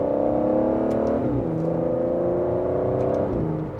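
Aston Martin DBS Superleggera V12 engine in Sport Plus mode, holding a steady, loud droning hum with a brief dip in pitch around a gear change, then settling back into a constant rumble with no talking.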